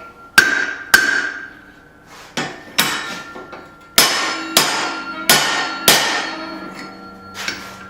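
A hammer strikes hot steel about a dozen times in an uneven rhythm while forging a small claw hammer, each blow a sharp ringing clang close by, with no voices.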